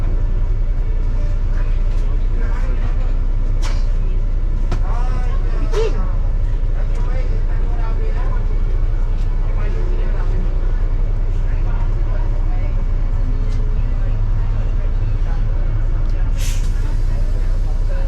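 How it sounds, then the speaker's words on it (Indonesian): Night ride aboard a free city bus in Kuala Lumpur, running from Bukit Bintang to Pasar Seni: a steady low engine rumble drones throughout, with brief hisses and rattles on top and people talking inside the cabin. "Bus gratis."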